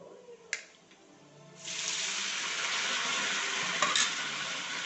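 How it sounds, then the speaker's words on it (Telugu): Cut potato pieces drop into hot oil with tempering spices and burst into a steady, loud sizzle that holds without a break after a brief clink and a stir. "తాలింపు అప్పుడు దీంట్లో వేసుకున్నామండి కట్ చేసుకున్న పీసులు"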